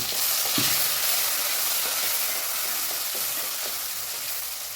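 Brinjal and drumstick sautéing in oil for sambar, a continuous close hiss and sizzle with soft stirring knocks, no talk.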